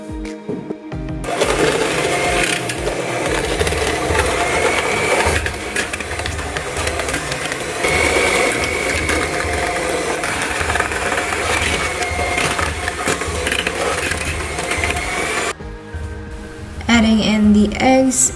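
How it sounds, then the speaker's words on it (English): Electric mixer beating cookie dough, a loud continuous motor whir with grinding texture that runs steadily for most of the stretch before cutting off near the end. "Now I'm gonna be mixing it with the mixer, and be prepared, it's gonna be loud."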